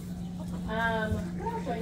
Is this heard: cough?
no